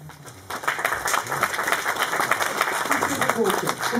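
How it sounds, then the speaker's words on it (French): An audience at a real-estate finance conference applauds a company CEO being introduced, a steady wash of clapping starting after a brief pause and continuing evenly at moderate level, with faint voices underneath. "Vous pouvez l'applaudir."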